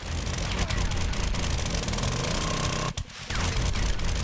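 A motorized auger grinds away in the survival video game 7 Days to Die. The drill is loud and close, with a hammering, jackhammer-like rattle that runs continuously and briefly stutters to a stop before starting again.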